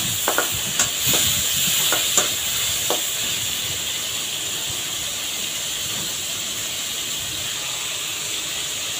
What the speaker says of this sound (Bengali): একটু চিংড়ি মাছটা আমি ভাজা ভাজা করে নেব, বেশি ভাজতে যাব না, হালকা ভাজবো